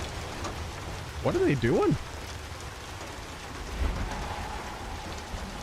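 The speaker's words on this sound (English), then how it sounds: "Okay, heavy rain stopping." Heavy rain pours steadily in the game Hunt: Showdown, a dense constant hiss filling the scene, with a brief voice speaking over it and a low rumble partway through.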